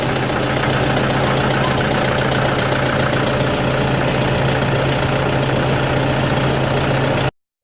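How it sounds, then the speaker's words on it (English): A Toyota Innova D4D 2.5-litre diesel engine idles continuously, a steady close mechanical rumble with a low drone and a knocking clatter, running unchanged until it cuts off abruptly at the very end. "Okay, so the engine has been running now for at least about 10 minutes."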